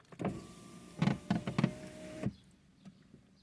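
A car's electric power window motor whirs steadily for a couple of seconds as the window is lowered, close and clear, ending with a soft stop before quiet cabin hum.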